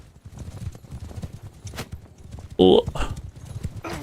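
Horses gallop in the video game Bannerlord, with rapid, rhythmic hoofbeats thudding under a man's speech, punctuated by a sharp loud burst midway and scattered clashing noises.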